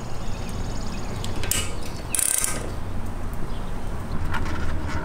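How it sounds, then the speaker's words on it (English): Torque wrench tightening a 19 mm strut top nut to 47 foot-pounds while fitting a Bilstein B8 strut with H&R Sport Springs, giving repeated close mechanical ratcheting clicks over a steady background hum, with no talking. "we're torquing that down to 47 foot-pounds"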